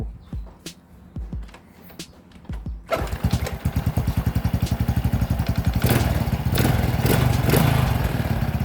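A Honda Wave 110i motorcycle with a faulty fuel injector is cranked with a few starter clicks, then catches and runs loud and close, its engine putting out a rapid steady beat that rises into sustained revving.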